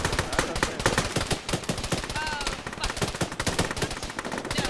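AK rifle gunfire in a tactical military shooter game, rapid close bursts of automatic shots in a dense stuttering rhythm, loud and sustained throughout, with a brief voice under the shots.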